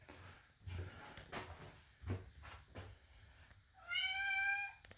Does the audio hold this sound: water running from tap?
no